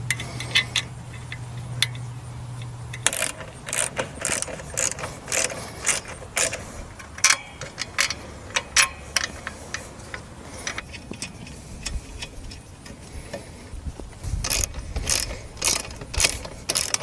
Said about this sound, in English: Now it's time to reinstall the sliding tracks to the suspension using the included bolts.